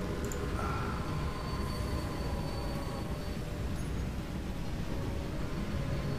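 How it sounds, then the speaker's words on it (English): Trains running in the Railway Empire video game, a continuous low rumble of rolling wheels with faint squeals, steady and fairly quiet throughout. "So a bunch of trains running up there."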